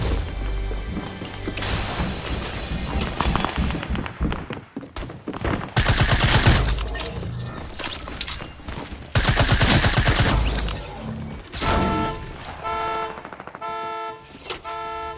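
Double pistols fire in a video game in dense, loud volleys and rapid cracks, mixed with horn-like tones and busy game effects throughout, with brief pauses between bursts.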